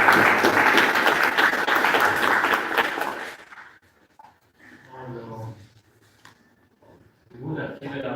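Conference audience applause at a research conference, dense clapping filling the first three seconds and then fading into scattered sparse claps and low murmur.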